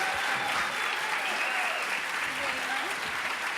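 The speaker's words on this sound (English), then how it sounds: "Big round of applause." An audience at a kids' rock show applauds, a dense even wash of clapping with a few faint cheers, steady throughout the short burst.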